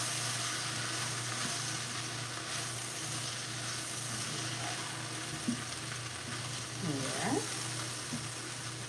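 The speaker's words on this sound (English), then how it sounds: "I'm going to give this a good stir" A pot of smoked kielbasa soup being stirred, giving a steady low simmering sizzle with a few soft spoon scrapes near the end, no talking.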